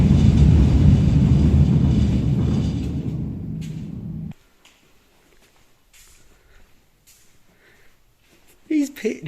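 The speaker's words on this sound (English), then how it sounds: "Oh, the train sounds very close here." Underground train rumbling loud and close beside the Chancery Lane bunker at Kingsway Exchange, a heavy low roar that cuts off abruptly midway, leaving near silence with faint footsteps and small knocks.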